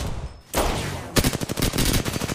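Automatic gunfire in the video game Apex Legends: a muffled stretch, then a loud burst at about half a second, and from just past one second a rapid, evenly spaced run of close, sharp shots.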